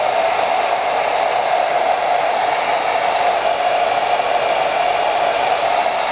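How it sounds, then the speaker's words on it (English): A hair dryer blows steadily and loudly while shaping a candle, a constant airy whoosh with a strong hum, running unbroken throughout with no voices. "Decided to pull out the big guns, also known as a hairdryer."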